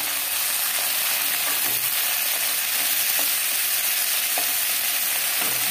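Potatoes frying in oil in a pan alongside onions, a constant bright sizzle with soft stirring bumps now and then, close and steady, no voices.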